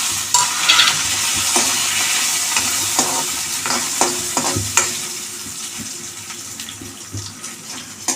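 Dried red chilies sizzling in hot oil for a ridge gourd chutney, a steady crackling hiss with occasional stirring scrapes and clinks; close and fairly loud, with no talking.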